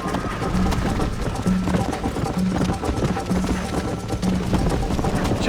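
Rhythmic hoofbeats clip-clop at a steady gallop under ongoing talk in Red Dead Redemption, the thudding repeating evenly throughout.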